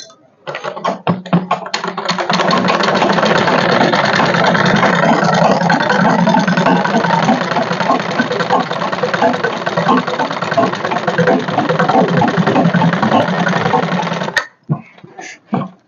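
A sewing machine stitches a side-pleated kurti in one long, continuous, rapid whir lasting over ten seconds, bracketed by a few clicks and fabric handling before and after.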